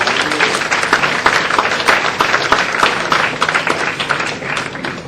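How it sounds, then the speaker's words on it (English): An audience at a 2010 shirt launch event claps loudly and continuously, a close, dense wash of many hands with scattered sharper claps standing out. "I think you give yourselves a big round of applause."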